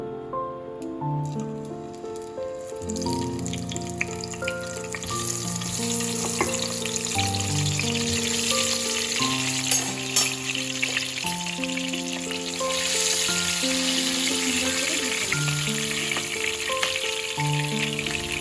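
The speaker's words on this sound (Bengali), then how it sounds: "এবারে আমি এই তেলের মধ্যে আলুগুলোকেও ভেজে নেব" Potato pieces fry in hot oil in a pan while mutton biryani is cooked at home, giving a steady, loud, continuous sizzle with music playing over it throughout.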